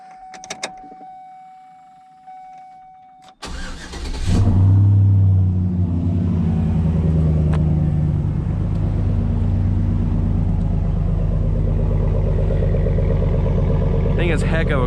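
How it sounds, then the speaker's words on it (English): A car is started with a key on a cold morning: a short electrical whir, then the engine cranks and catches at about three seconds, settling into a loud, steady low idle rumble that fills the rest of the clip. "A little bit of a cold start."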